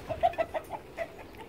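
Chickens cluck in a coop, a run of short, close clucks repeating in an uneven rhythm over faint background noise.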